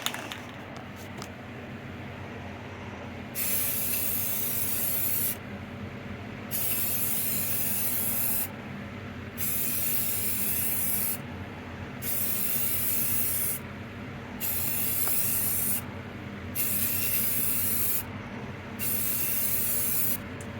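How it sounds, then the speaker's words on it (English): Spray can applying primer to a guitar body: several bursts of hissing spray, each a couple of seconds long, separated by short pauses in a regular rhythm over a low background hum. "The second spray will slightly overlap the first spray in a smooth motion."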